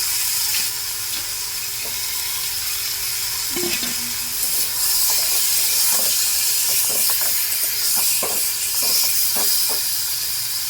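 Fish and roe frying in masala in a hot pan give a loud, steady sizzle and hiss, with scattered spoon scrapes and clinks throughout.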